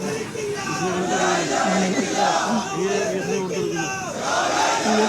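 A large crowd packed along both sides of a highway, waiting to catch sight of V. S. Achuthanandan. Many voices shout and chant together in a loud, continuous roar that swells and dips.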